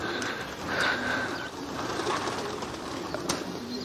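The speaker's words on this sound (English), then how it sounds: "The young pigeons coming out." Young pigeons leaving a racing pigeon loft, with wing flaps and bird sounds over a steady outdoor background hum, at moderate distance.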